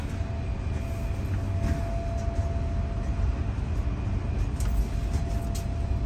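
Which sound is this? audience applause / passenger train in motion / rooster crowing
passenger train in motion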